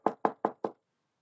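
Four evenly spaced knocks on a door, close and crisp, then silence.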